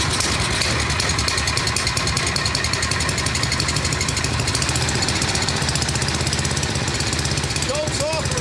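A Craftsman 30-inch tracked snowblower engine runs loud and close with a steady, rapid knocking chug throughout, a brief voice appearing near the end.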